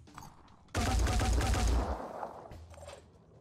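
A loud burst of gunfire from the Phoenix Point tactical video game fires for about a second as a dense, close volley, then fades into a noisy tail, with softer game sounds before and after.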